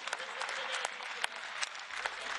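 Faint, distant audience applause with a steady patter of many hands clapping and a few sharper individual claps standing out.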